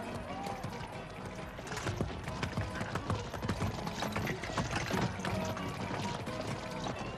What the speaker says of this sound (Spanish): ¡Aquí están los caballos!